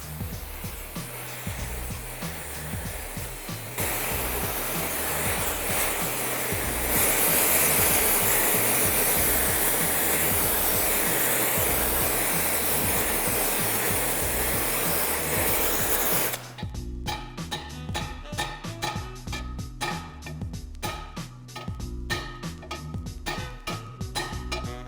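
A torch flame roars steadily as it heats a bent alloy wheel in a wheel repair shop, a broad continuous hiss that swells at times; the sound later turns into a busier, clattering workshop noise.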